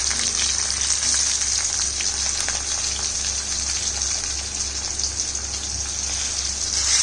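Onion pieces sizzle in hot oil in a pan, giving off a steady, close hiss with no pauses.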